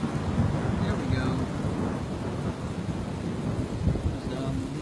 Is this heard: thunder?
yes